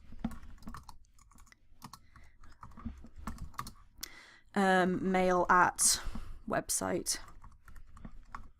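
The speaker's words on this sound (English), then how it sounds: "please forgive my slow typing because I'm trying to type around a microphone" Typing on a computer keyboard, worked around a microphone: soft, irregular clicks run faint and steady beneath a quiet room, then continue under a nearby voice speaking.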